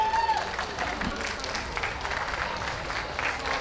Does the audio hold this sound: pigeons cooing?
no